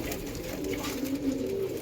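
Soft, low cooing of Andhra pigeons murmurs on steadily throughout, with a continuous gentle hum of birds close by and no talking.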